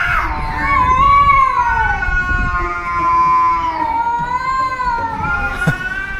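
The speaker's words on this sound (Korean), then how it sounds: "고양이들이 울부짖고 있었어요" Cats caterwauling on a street, drawn-out wavering yowls rising and falling in pitch, loud and close, carrying on continuously over a low background rumble.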